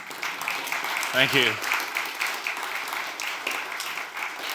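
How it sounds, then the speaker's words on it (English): Audience applause at a game audio production masterclass, a broad steady patter of many hands at moderate distance, with a voice briefly speaking over it partway through. "That applause is worth the pain"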